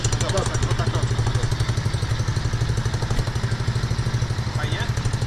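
A new motorcycle's cold engine idles steadily at its first start, a close, loud, even mechanical chugging that runs throughout with no talk.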